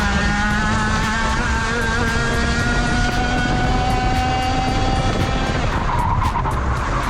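Racing engine with a clutch, revving to 16,000 rpm at a track test day, a loud high-pitched wail that holds steady and then shifts pitch briefly, with constant rough mechanical noise underneath.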